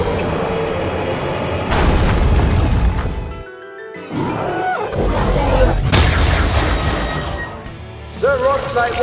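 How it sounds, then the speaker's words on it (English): Pokémon Rock Slide attack shattered in an explosion effect, heavy rumbling booms and crashing debris bursts in a dramatic battle scene, with a brief drop into near silence before the blasts resume. "The Rock Slide was destroyed!"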